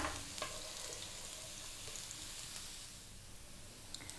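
Chopped garlic toasts in a pan for a Filipino-style pork loin chop gravy, giving a steady, moderate sizzle with soft crackles and occasional stirring clinks throughout.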